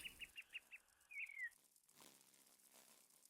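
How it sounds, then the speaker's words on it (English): Robin song in a video game nature add-on, a quick run of five bright chirps and then a rising warbled phrase, clear and close against near silence. "We have the robin."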